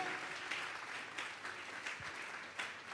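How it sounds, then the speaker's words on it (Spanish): A church congregation at a Sunday afternoon service claps as an offering of applause to God, a steady, fairly distant wash of many hands clapping together. "Vamos a darle una ofrenda de palmas a Dios en esta tarde."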